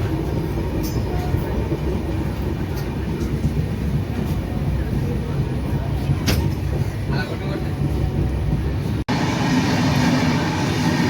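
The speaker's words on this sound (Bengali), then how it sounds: "এই বাসে যে ট্রেনটি যাচ্ছে সেটি হলো লোকমান্য তিলক টার্মিনাল, মুম্বাই থেকে শালিমার জ্ঞানেশ্বরী এক্সপ্রেস" Lokmanya Tilak Terminal–Shalimar Jnaneshwari Express passing alongside, heard from aboard a moving train: a loud continuous rumble and rattle of wheels on track with a sharp clunk near the end.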